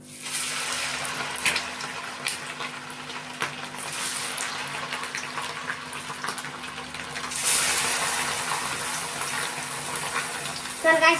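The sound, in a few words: chicken kabab frying in hot oil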